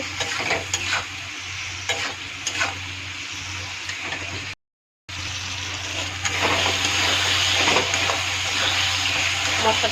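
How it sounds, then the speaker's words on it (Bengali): Chili paste and ginger paste are stirred and fried in a pan, giving a steady sizzle with repeated scraping strokes that grows louder in the second half, with no voice over it. "মশলাটা একটু ভাজা ভাজা হয়ে গেছে,"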